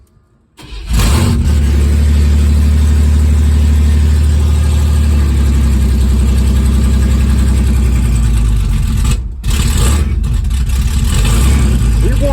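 A cold Chevrolet S10 pickup engine cranks and catches, then runs loud and close at a rough, steady idle while warming up, with a brief dip in the running partway through.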